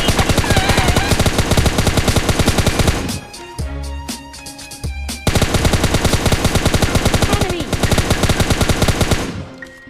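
Rapid automatic gunfire from an MP5K submachine gun in PUBG Mobile Lite, loud bursts in dense rhythmic volleys filling the clip, broken by a short quieter pause in the middle before the shooting resumes.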